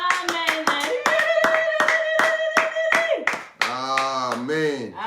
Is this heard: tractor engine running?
no